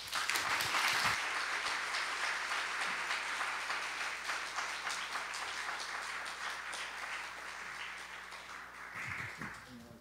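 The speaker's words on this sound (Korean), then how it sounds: "나오실 때 큰 박수 부탁합니다." A large crowd applauds steadily for about ten seconds, the clapping loud at first and slowly thinning out.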